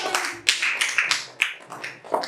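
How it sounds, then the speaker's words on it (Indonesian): Audience at a business training session breaking into applause, a brief burst of rhythmic, close claps with uneven peaks, fairly loud and without talk. "tepuk tangan dulu sekali lagi"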